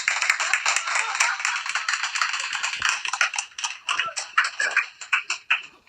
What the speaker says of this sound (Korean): 자 우리 신화를 위해서 한번 큰 박수 그래